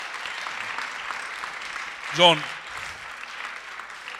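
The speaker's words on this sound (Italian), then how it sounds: "Io farei un grande applauso" An audience at the Internet Festival 2013 applauds steadily in a hall, the clapping running under someone speaking through a microphone.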